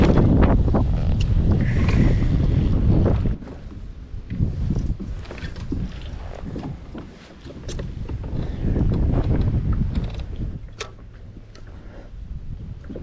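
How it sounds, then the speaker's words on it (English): Strong wind gusting across a lake, buffeting a kayak on the water with heavy, rushing low-frequency roar that eases partway through, plus small water sloshes and ticks, no talk. "the stronger the wind is getting, it's going to be hard to hold position to skip docks anyway"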